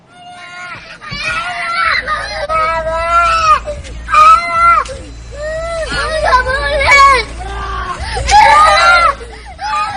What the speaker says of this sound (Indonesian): Pengemudi mobil dan 2 anaknya sontak berteriak histeris.